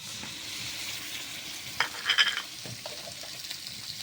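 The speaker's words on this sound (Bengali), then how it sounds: "তেলটা গরম হয়ে গেছে, এখন আমি দিয়ে দেব সরিষা বাটা, জিরা বাটা, কাঁচামরিচ বাটা ও পেঁয়াজ রসুন বাটা।" Mustard, cumin, green chili, onion and garlic pastes hiss and crackle in hot oil, a constant close sizzle that flares louder for a moment midway as the pan is stirred.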